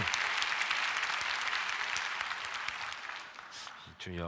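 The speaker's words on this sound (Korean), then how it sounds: "한국은 좀 이상하네. 별거에 박수를 다 치네요." A church congregation applauds at a Korean prayer gathering, steady dense clapping filling most of the clip before tapering, with a brief voice at the very end.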